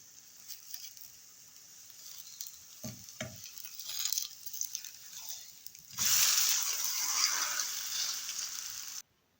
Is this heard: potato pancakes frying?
yes